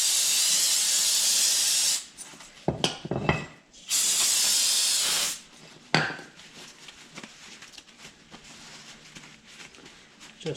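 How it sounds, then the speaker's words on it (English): A loud, close hiss of aerosol spray cleaner on front brake parts, rotors and hardware of a Ford Fiesta, in two long bursts with a short one between. Metallic clinks and handling noises follow as the spraying stops. "you can always spray these, clean them up really good"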